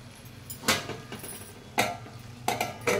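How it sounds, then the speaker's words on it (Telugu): A metal lid set onto a cooking pot while preparing a Sunday curry. It gives a few sharp clanks and clinks, one near the start, one mid-clip and a quick pair at the end, close and fairly loud. "మళ్ళీ కొంచెంసేపు మనం మూత పెట్టుకోవాలి."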